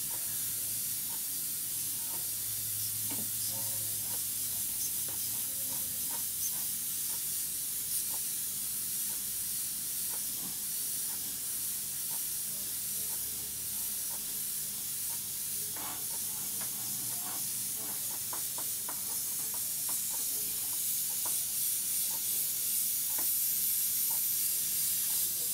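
Continuous airbrush hiss spraying water-based paint, a steady close airy spray with faint clicks and small shifts in pressure, no talk.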